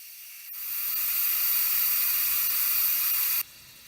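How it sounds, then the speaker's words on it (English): Steam hisses steadily from an Instant Pot pressure release valve while a boiled ham dinner with root vegetables cooks. The hiss is loud, close and continuous for about three seconds, then cuts off abruptly, with no talking over it. "that's what you're going to hear as the steam comes out of your"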